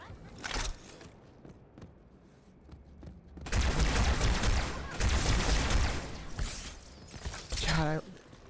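Needler fire in Halo 2 Anniversary on PC, with bursts of rapid crackling shots and mechanical clatter that are loudest in the second half and separated by quieter gaps.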